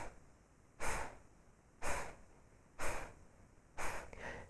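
Slow yoga bellows breathing, four forceful, evenly spaced breaths about one second apart, each a breathy whoosh through the nose, close and clear against a quiet room.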